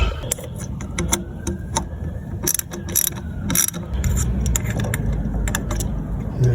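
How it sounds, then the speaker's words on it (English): A hand ratchet tightens muffler bolts on a car, sharp rapid clicking bursts of the pawl in irregular spurts, close and clear over a low rumble. "Now I'll just tighten them up with my trusty ratchet."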